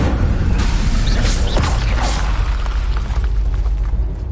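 A fire spell cast in Hogwarts Legacy on PS5 gives a loud, full burst with a whooshing, roaring rush of flame that holds steady for several seconds over dense game effects.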